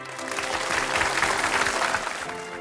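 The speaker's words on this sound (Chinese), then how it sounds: "掌声欢迎" An audience at a Chinese overseas singing contest final in Los Angeles applauds to welcome a judge, with steady, dense clapping throughout and no talk.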